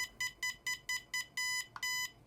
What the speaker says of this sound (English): double beep indicates center on the transmitter